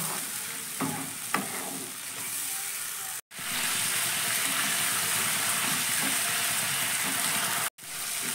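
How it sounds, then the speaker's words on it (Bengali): Ginger paste fries in a pan over a medium gas flame, a steady close sizzle with scraping stirs of a spoon throughout, briefly cutting out twice. "এবার আদাটাকে কিন্তু আমি ভালো করে কষিয়ে নেবো এখানে, গ্যাসের ফ্লেমটা মিডিয়ামে রেখে"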